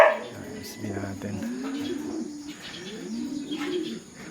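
Racing pigeons coo softly in a loft, several low throaty calls rising and falling over a few seconds, close by, with faint background noise and no speech.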